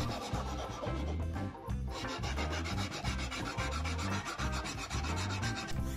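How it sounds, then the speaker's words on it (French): A hand file rasps back and forth across laser-cut wood, scraping off excess glue in steady, close, rhythmic strokes with one brief pause partway through. "je vais commencer par enlever l'excédent de colle avec une lime"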